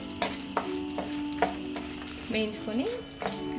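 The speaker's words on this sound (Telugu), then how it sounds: "ఇట్లా మంచిగా దూరగా వేయించుకొని" Spices being dry roasted in a pan, with repeated stirring scrapes and light sizzling at close range, a steady background hum underneath and no talk.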